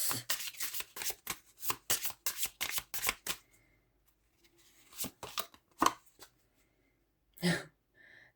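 A deck of cards is shuffled for a card reading, a rapid run of close, crisp riffling bursts, then a pause and a few separate slaps and flicks of cards being drawn or set down.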